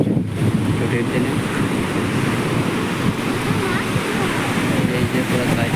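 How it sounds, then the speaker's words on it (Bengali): Sea waves and wind at Marina beach in Chennai make a steady, loud, broadband roar of surf. Gusty wind buffets the microphone and there are no distinct breaks. "মেরিনা ব্রিজের সমুদ্রটা হচ্ছে এটা"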